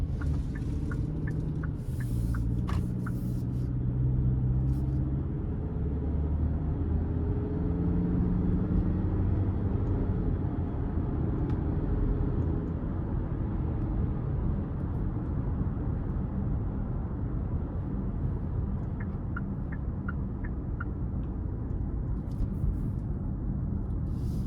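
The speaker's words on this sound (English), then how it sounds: "we're gonna go ahead and take this 2022 Hyundai Tucson N-Line out on the road for a quick test drive" 2022 Hyundai Tucson N Line on a road test drive, a steady low road and engine rumble heard from inside the cabin, fairly quiet and continuous with a few faint clicks.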